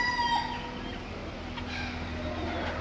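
Roosters and hens at an animal auction in Kuwait: intermittent clucks and a drawn-out crow, quiet and somewhat distant against a low steady background hum.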